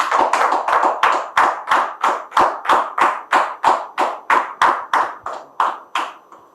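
Studio audience on a French-language talk show welcoming a guest: loud, close, rhythmic applause in unison, with around seventeen even claps at a steady beat and no voices.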